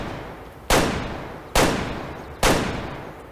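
Three sharp hunting rifle shots from the video game Way of the Hunter ring out alone at roughly even intervals, each a loud crack with a long fading tail.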